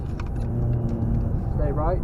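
A car laps the Nürburgring Nordschleife, its engine rumbling steadily from inside the cabin, heard loud and continuous beneath an instructor's spoken directions.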